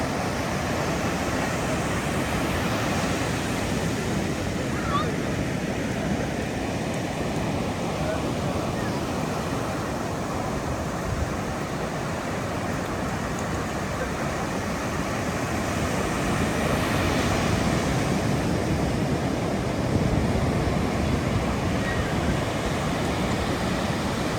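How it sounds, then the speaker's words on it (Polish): Pacific Ocean surf rolling onto the beach at Carmel-by-the-Sea, California, a steady, loud roar of breaking and washing water that continues without pause. "Może warto posłuchać trochę szumu oceanu."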